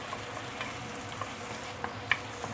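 Sambal and petai beans frying in a pan alongside a pushed-aside egg for fried rice, a quiet steady sizzle with a few sharp spatula taps and clicks, no one talking.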